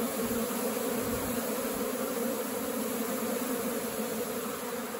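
A dense, steady buzz of Apis honey bees swarming around a termite mound in an open pasture, loud and close, holding constant for the whole stretch with no talk.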